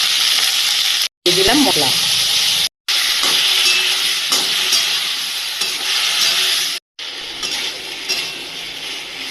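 Cauliflower and potatoes fry together in a pan with a loud, continuous sizzle and hiss, broken by a few brief gaps. Stirring scrapes come through, and a voice speaks briefly over the frying.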